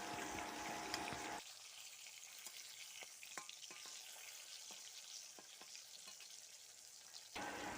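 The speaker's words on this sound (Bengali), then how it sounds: "দেখো এখানে আমি সব মাছের পিসগুলোই অল্প অল্প করে দিয়ে আমি কড়াতে ভেজে নিচ্ছি" Pieces of fresh rui fish fry in a kadai over a lowered flame, giving a steady soft sizzle scattered with small crackles and pops, heard close with no talking.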